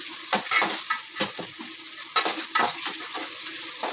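Onions and curry leaves sauté in a pan, with scrapes and stirs sounding at irregular intervals over a soft, steady sizzle and no voices.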